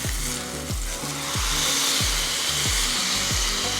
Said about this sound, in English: We will flip our steak